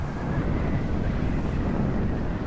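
Wind blowing across an outdoor area in the video game Anthem, a steady low rushing roar that holds at an even loudness throughout, with no talk over it.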